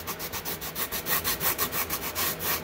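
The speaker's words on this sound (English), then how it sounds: "rotate that sandpaper a little bit as you're sanding" Sandpaper rubs back and forth over styrofoam trim, shaping a rounded contour in quick, regular hissing strokes, close and steady.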